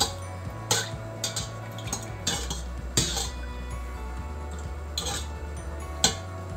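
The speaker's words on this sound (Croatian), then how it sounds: "I opet sve lepo da promešamo." Pepper pickling brine of water and vinegar being stirred, with repeated clinks and scrapes of a utensil against a pot or jar at an uneven rhythm, close and moderately loud, with no talking.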